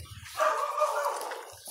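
A dog gives one drawn-out, whiny bark or yelp, fairly close and clear, with quiet low background rumble before and after.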